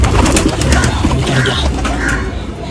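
Pigeons, including a black one, coo close by in a soft, repeated murmuring that runs throughout, with light chirps and busy background noise.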